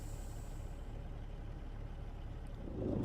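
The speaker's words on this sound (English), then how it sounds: "Let's release the brakes." A heavy semi truck in American Truck Simulator releases its air brakes, giving a faint hiss over a low, steady engine idle that swells slightly at the end.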